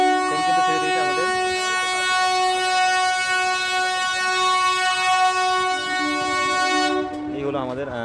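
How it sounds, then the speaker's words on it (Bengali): A long, loud horn blast sounds as the 12381 Howrah to New Delhi Poorva Express leaves Howrah station, held for about seven seconds over a low rumble of rail wagons before it cuts off. "তোমরা দেখতে পাচ্ছ ট্রেন কিন্তু ছেড়ে দিয়েছে আমাদের।"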